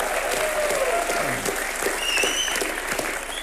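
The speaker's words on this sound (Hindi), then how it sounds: "अनिल सर के लिए तालियां होनी चाहिए।" A film-event audience bursts into steady, dense applause for the actor, with a few whistles rising over the clapping, which fills the whole stretch at close, strong level.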